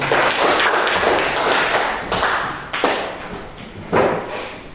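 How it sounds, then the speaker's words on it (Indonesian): Classroom applause for a student group: a burst of close, loud clapping from a small group of students, fading after a few seconds with a couple of heavier claps or thumps trailing at the end. "kita berikan tepuk tangan untuk kelompok 4"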